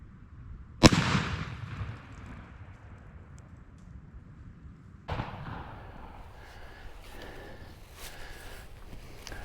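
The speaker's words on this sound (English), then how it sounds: "That gun kicks like a mule with them turkey loads." A shotgun fires a turkey load at a target outdoors, one sharp loud blast with a decaying tail, then a second, softer report or thump a few seconds later over quiet background.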